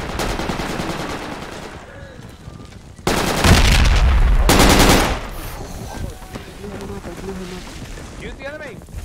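Loud rapid bursts of automatic gunfire in a military shooter, a dense roar of shots in the middle with scattered single cracks around it, heard under excited shouting voices.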